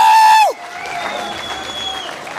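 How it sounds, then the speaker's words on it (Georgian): Applause for the fighters at a boxing club bout, a dense crowd clapping that rises loud after a fading tone and holds steady throughout, with some cheering mixed in. "აპლოდისმენტების ქუხილი აჩუქებ ბიჭებს."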